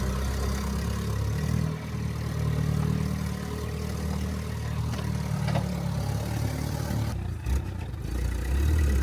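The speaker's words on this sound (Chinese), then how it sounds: "上山的坡度陡得一度让我觉得三轮车要罢工" A three-wheeler engine labours up a steep hill road to a hilltop temple on Ko Sichang island, Thailand, a continuous close rumbling drone with rattling.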